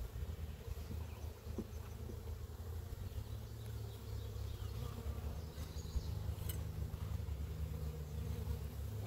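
Honey bees around a garden beehive produce a steady, low droning buzz, with faint individual insects passing close over a continuous hum and no one speaking.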